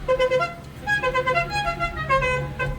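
Repeated car horn blasts, several honks in quick succession, loud and close, with engine rumble beneath.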